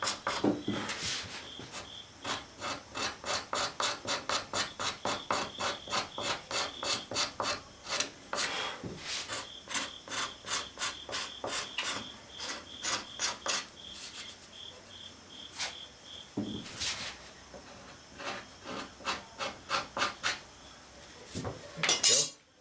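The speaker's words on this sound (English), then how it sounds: "I can take the scraper and just concentrate right on top of it." A steel cabinet scraper works across the wooden seat of a handmade chair, giving a long run of quick, rhythmic rasping strokes close by, with brief pauses and no talking.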